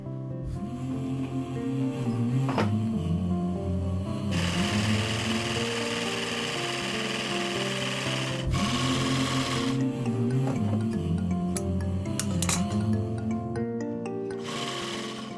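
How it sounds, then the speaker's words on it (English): An elderly woman's sewing machine running close by in rapid, continuous mechanical bursts, the needle's rhythmic chatter rising and falling in speed across several long stretches of stitching. "At her age, Marita is still sewing."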